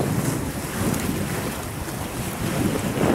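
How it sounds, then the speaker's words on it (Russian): Strong wind at a seaside beach in Hurghada, Egypt, roaring and buffeting the microphone close up in continuous gusts, with the wash of waves mixed underneath. "Утром не было, сейчас ветерок."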